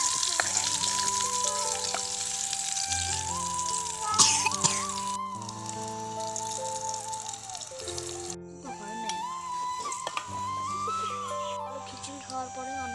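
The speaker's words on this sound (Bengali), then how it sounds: "বেগুন ভাজা হয়ে গেছে" Eggplant slices fry in hot oil with a continuous, moderately loud sizzle that swells and dips, mixed with other background sounds.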